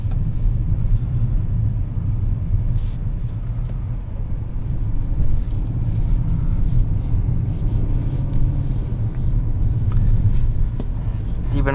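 A 2020 Nissan Altima 2.5 SR rolls over bumps on a park road, heard from inside as a steady low engine and road rumble with occasional soft thumps, with a voice talking over it.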